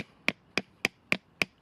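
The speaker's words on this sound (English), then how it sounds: "I'm going to bang that into the ground with this here, with the knife" A knife used as a hammer strikes a freshly sharpened wooden spike into very hard ground outdoors, five sharp, evenly spaced knocks about a quarter second apart, close and clear with no talking.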